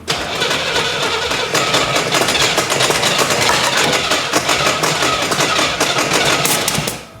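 A 4-speed Chevrolet Camaro Z/28 engine with a giant exhaust leak and retarded timing runs loud and close, a ragged, rapid chuffing rumble that stays steady before cutting off at the end.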